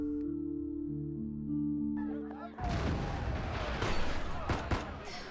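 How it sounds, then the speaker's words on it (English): Gunfire during a night raid in the video game Love & Deepspace, with tonal game music giving way abruptly to loud, dense bursts of shots and crashing impacts that continue steadily to the end. "Gunfire and the sound of tables and chairs getting knocked over intermingles with N109 zone slang I don't understand"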